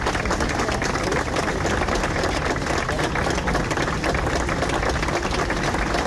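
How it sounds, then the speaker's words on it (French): Dense, sustained applause from a large crowd gathered outdoors at a memorial in Nantes, a continuous roar of clapping held at an even level without breaks or voices rising above it. "On suivit presque 3 minutes d'applaudissements."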